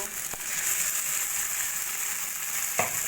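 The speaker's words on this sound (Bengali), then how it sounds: "এবার ভালো করে মশলাটা কষিয়ে নেব" Tomato, green chilli and garam masala paste fries in a pan with a steady close sizzle, a couple of sharp utensil knocks breaking the constant hiss.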